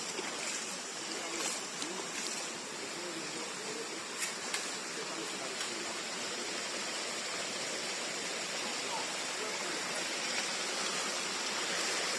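Water runs freely from a tap or outlet in a steady, continuous hiss and splash, close and unbroken for the whole stretch, with a few faint knocks in the background.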